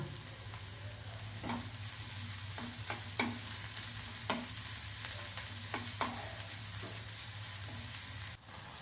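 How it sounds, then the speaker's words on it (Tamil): Garlic frying in a pan for spicy puffed rice: a steady close sizzle runs throughout, broken by sharp scraping stirs and occasional clinks, with a brief drop near the end. "பூண்டு நல்லா வறுபடணும்"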